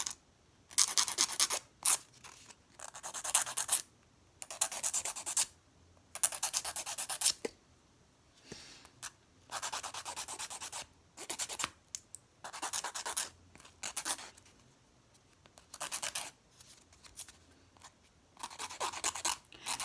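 Cheap nail files scrape fingernails in short bursts of quick, gritty strokes separated by pauses, close and fairly soft, with no talking over them.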